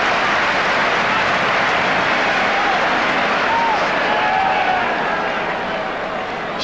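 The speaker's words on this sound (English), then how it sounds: "Crowd applauding." Broad, steady crowd applause and cheering from a packed stadium at a 1986 France v New Zealand rugby test, sustained throughout and easing slightly at the end, with commentary voices faint beneath the roar.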